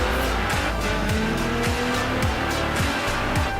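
A car drifting in Forza Horizon 3 around Surfers Paradise gives a continuous loud tire squeal over a revving engine, with the engine note repeatedly climbing as the drift is held.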